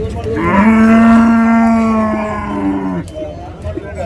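A single long, loud moo from a nearby cow rings out for over two seconds at a cattle market in Uthangarai, Krishnagiri district, over a background of crowd chatter and voices.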